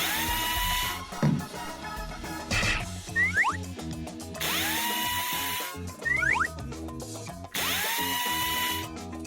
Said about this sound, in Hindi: ये ड्रिल बड़े काम की है।